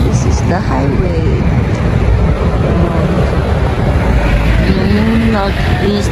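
Highway traffic rushing steadily past, a loud, continuous roar of cars with passing tire and engine whooshes, while a person talks over it.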